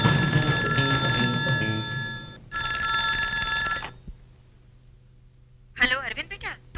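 A telephone bell rings loud and close in a Bollywood drama scene, two long bursts of trilling ringing with a short gap between them, then silence before voices come in at the end.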